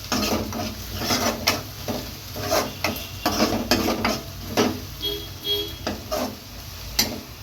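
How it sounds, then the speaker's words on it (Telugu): Onions frying in a pan for an Andhra-style pesara punugulu pulusu, with a steady sizzle broken by sharp stirring and scraping clicks of a spoon against the pan. "వేగినాయండి ఉల్లిపాయలు"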